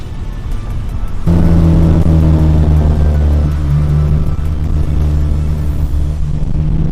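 A 9th-generation Honda Civic Si with an Injen intake revs hard, its engine droning loud and near with a steady rising tone after a quieter start, no voices over it.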